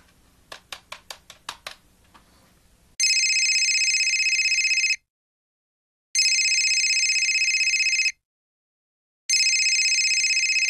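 A telephone rings in three long electronic bursts separated by short silences, loud and close, after a quick series of sharp ticking clicks at the start.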